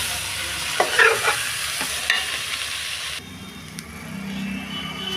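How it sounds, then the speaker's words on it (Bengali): Food fries in a pan while being stirred, with a loud sizzling hiss and several scraping knocks of a spatula, then a quieter, duller stretch near the end. "ভালো করে ভেজে নিচ্ছি"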